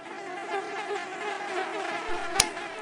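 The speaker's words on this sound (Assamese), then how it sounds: "ইয়াত ইমান মহ।" Mosquitoes whine in a steady, thin buzz at night near a bench, continuous and fairly close, with one sharp brief click near the end.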